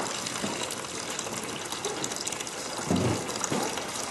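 Water from a pump runs down a sand erosion model on a science-project table, a steady close gush and trickle with a brief louder splash near the end.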